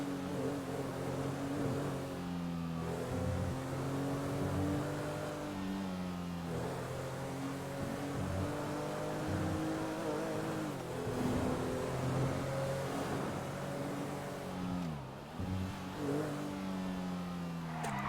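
Car engine in a GTA roleplay video game, revving and accelerating steadily throughout with rising and falling pitch sweeps as the car drifts, loud and continuous.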